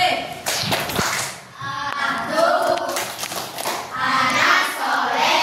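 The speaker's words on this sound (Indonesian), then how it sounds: "Tepuk anak Soleh." A classroom group does the Tepuk Anak Soleh clapping chant, sharp hand claps and taps in a quick rhythmic pattern, close and fairly loud, mixed with children's chanting voices.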